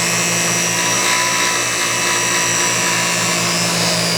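A mechanical distributor spins on a test machine at 7,000 RPM, giving a loud, continuous high-pitched whine with a rapid mechanical whir and a faint pulsing low hum underneath. No one talks.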